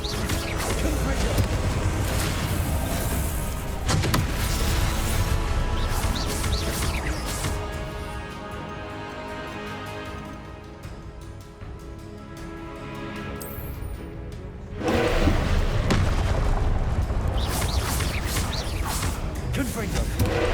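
Repeated fiery Confringo blast spells from Hogwarts Legacy burst in loud, crashing waves amid dense game sound effects, a quieter stretch in the middle before the explosive barrage resumes.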